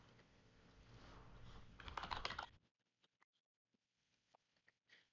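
Data being typed on a computer keyboard: a rough burst of continuous noise, then sparse, faint, separate key clicks spaced irregularly, with no talk.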